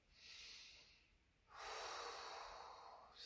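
A slow yoga breath: a soft, steady inhale through the nose, a short pause, then a longer, louder airy exhale through the mouth, close and alone.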